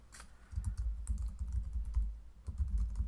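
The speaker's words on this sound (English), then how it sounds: "And we're going to type on here, add text." Steady clatter of keystrokes on a computer keyboard while text is entered for a Cricut Explore graduation card design, close and fairly loud, with uneven bursts and brief pauses and no talking.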